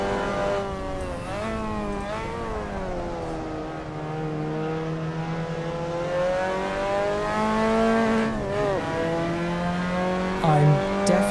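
A Mazda MX-5 Cup car accelerating at Suzuka in Assetto Corsa, its engine climbing through the revs and briefly dipping at a gear change. The sound stays loud and close and finishes with a hard, high-revving surge.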